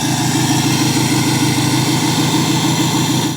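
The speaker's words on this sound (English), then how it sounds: "Man, does this truck just sound so good when it's cold outside here in Texas." A pickup truck engine idles after a cold start on a chilly Texas morning, a loud, close, steady low rumble with a fast even throb and no voices.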